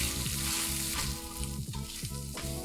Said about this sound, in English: Sauté the garlic, doubanjiang, and tianmianjiang thoroughly to bring out their fragrance.